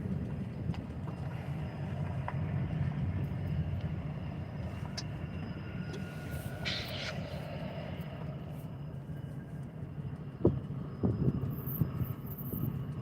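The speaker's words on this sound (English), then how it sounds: "They're chugging and the air brakes are just going off." Two Gary Railway diesel locomotives, units 313 and 304, rumble steadily at close range with a low chugging drone, while a few sharp hissing bursts of air brakes releasing break through near the middle and end; some wind noise.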